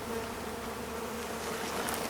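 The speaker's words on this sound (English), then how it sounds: "freaking loaded with bees." A swarm of bees packed into a full hive box on a farm in summer produces a dense, continuous, close-up buzzing drone.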